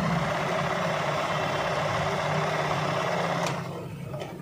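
Brother zigzag sewing machine running at a steady, even whir close up, then slowing and fading near the end with a couple of faint clicks.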